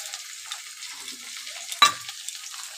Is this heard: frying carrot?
yes